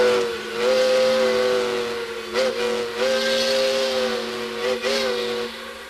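A steam train engine pulling onto the main track, giving a steady tonal whistle-like hiss with a low rumble underneath and brief surges of chuffing noise, heard fairly close with no talk.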